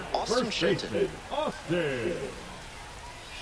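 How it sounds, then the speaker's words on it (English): Simulated rain falls in the MLB The Show baseball game during a minor-league career-mode game, a steady soft hiss running beneath a play-by-play commentator's voice. "the rain's still a factor here, and the umpires may have their hand forced sooner than later"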